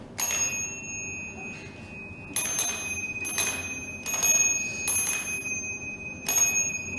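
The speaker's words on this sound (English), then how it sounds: "The specialty of this accordion are 2 little bells on the left-hand side that you can activate by playing the bass note." Two small bells on the left-hand side of a roughly 90-year-old Saratov diatonic accordion, triggered by the bass notes, ring out in about six bright, close chimes at irregular intervals, each with a lingering metallic shimmer over a quiet background.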